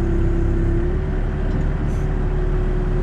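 A backhoe lifts and tilts its front bucket while driving forward, its diesel engine a loud, steady drone with a constant hum throughout.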